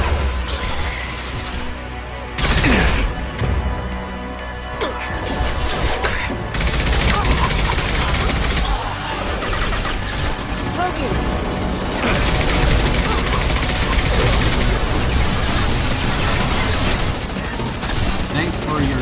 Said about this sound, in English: What you're just gonna have to focus on is these troopers who's trying to shoot you